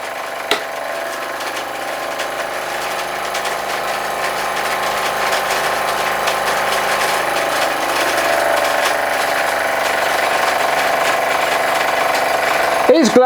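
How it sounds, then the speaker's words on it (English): Steam-driven generator running under a lamp load with its belt slipping, a continuous broadband mechanical rumble and hiss that grows slightly louder over the span, with a faint clatter at the end. "you turn one of the lamps on, and basically the generator slows right down"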